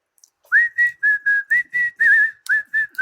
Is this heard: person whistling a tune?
yes